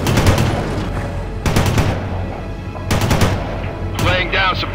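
Machine gun suppressing fire in the World in Conflict video game, three loud rapid bursts spaced about a second and a half apart over a constant low battlefield rumble, with a radio-style voice coming in at the end.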